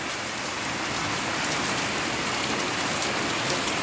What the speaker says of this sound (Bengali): দেখো আমাদের এদিকে ঠিক কতটা বৃষ্টি হচ্ছে।